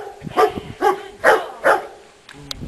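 A puppy at herding practice barks four times in short, evenly spaced yaps, close and clear, followed by a faint brief whine.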